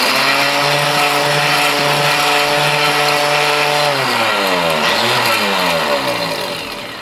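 A loud flail mill ore crusher roars steadily with a grinding, droning whine, then its pitch wavers and dips as its hammers shred electronic connectors before fading slightly.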